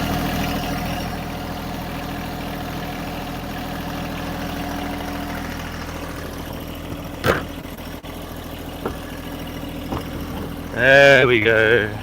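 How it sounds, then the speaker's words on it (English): An old tractor engine cranks and fires up, then settles into a steady low idle with a brief rising rev near the end, while someone speaks briefly nearby. "Start the tractor."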